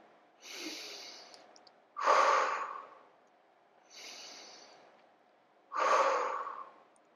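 Slow, deep breaths during a floor exercise for the shoulders, four audible breaths close to the microphone alternating softer and stronger, each lasting about a second, with quiet between them.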